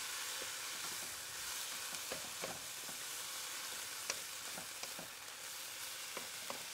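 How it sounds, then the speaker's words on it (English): Pre-cooked meat frying in a pan for a ramen noodle dish, a constant soft sizzle with occasional light clicks of stirring, fairly quiet and close, no voices. "Just slide that in, stir it in, and let it heat through and through."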